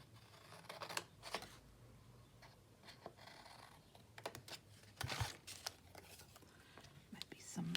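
Paper collage pieces being trimmed with scissors, quiet intermittent snips and paper rustles scattered through the clip, with soft speech mixed in.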